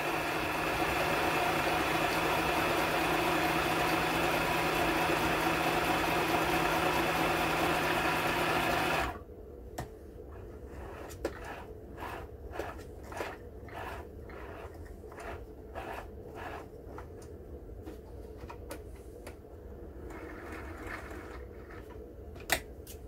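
Home sewing machine stitching fabric for an RV couch seat cover, a steady loud whirring hum for about nine seconds, then stopping and giving way to quieter scattered clicks and fabric handling.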